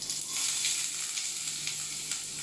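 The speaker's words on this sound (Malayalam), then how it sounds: "അപ്പോൾ നമ്മുടെ ഓയിൽ ഇവിടെ ചൂടായിട്ടുണ്ട്. നമുക്ക് ഈ അരിഞ്ഞു വെച്ചിരിക്കുന്ന ഇഞ്ചി വെളുത്തുള്ളി ആദ്യം ചേർത്ത് കൊടുക്കാം." Chopped ginger and garlic sizzling in hot oil in a pan, a soft, steady crackling hiss with faint stirring, close but quiet, no talking.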